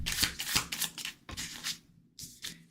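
A deck of tarot cards is shuffled up close: several quick papery riffles and flutters in uneven bursts with short pauses between them, and no talking.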